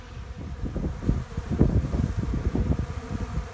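Honey bees crowd around coarse feed at a queenless spring nest, a dense close buzzing hum with shifting wingbeat swells and some wind noise on the microphone, no voices.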